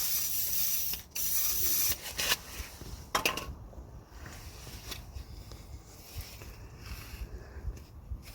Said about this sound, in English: Apply plenty of WD-40 on it so that it slides in nicely